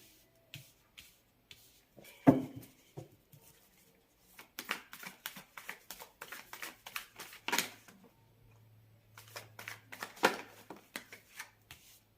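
Tarot cards being shuffled by hand, crisp riffling flutters and taps in short irregular bursts with gaps between them, close and fairly quiet in a still room.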